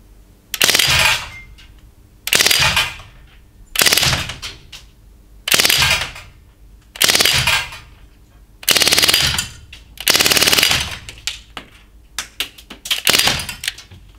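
An Umarex M3 Grease Gun 4.5 mm BB air gun rattles off full-auto bursts, about eight sharp, loud strings of rapid clacking shots, each lasting around half a second and separated by brief quiet gaps.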